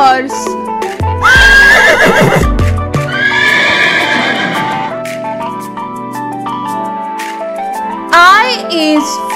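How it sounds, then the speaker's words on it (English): A horse neighs loudly in a long, shaky whinny, followed by a second whinny, with faint clip-clop hoofbeats and a brief child-like voice near the end, set against a children's learning song backdrop. "horse."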